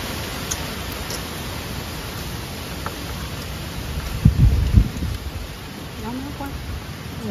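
Rain falls outdoors as a steady, continuous hiss with gusts of wind and a brief low rumble, while people talk nearby during a meal.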